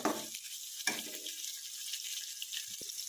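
Chopped onions dropped into hot oil with roasting spices in a pan for Punjabi chicken, giving a brief loud sizzle burst at the start and another at about one second, then a quieter steady frying hiss.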